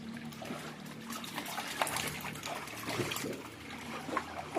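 Soft splashing and trickling water from dogs bathing in a swimming pool, a faint, continuous wash of small splashes with a few brighter drips.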